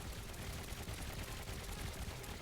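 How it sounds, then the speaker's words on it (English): Smart cannons firing in the Trailmakers video game, a dense, continuous barrage of rapid gunfire-like blasts with no pauses, loud and steady throughout. "And with the smart cannons as well."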